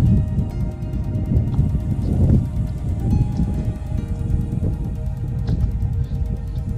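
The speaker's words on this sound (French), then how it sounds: "Le vent souffle toujours." Steady, low rumbling wind blowing continuously on the Plomb du Cantal, with a soft rushing texture and faint buffeting, no voices.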